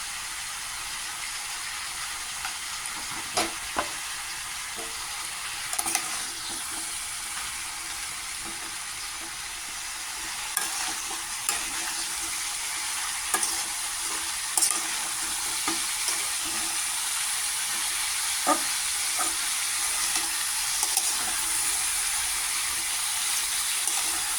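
Turmeric being stirred into a hot frying pan, with a long, steady sizzle broken by sharp ticks and scrapes of the spoon at irregular intervals.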